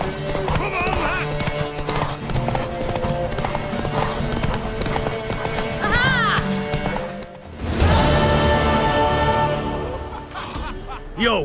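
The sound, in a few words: horse galloping hooves in The Witcher 3 video game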